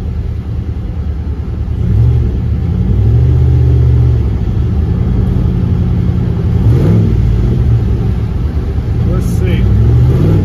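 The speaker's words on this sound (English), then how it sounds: "I'll just try to brake boost it and see how it sounds." A turbocharged LS-swapped Dodge Caravan engine revs up while brake boosting and holds at a loud, steady rumble, surging a couple of times over a continuous low drone.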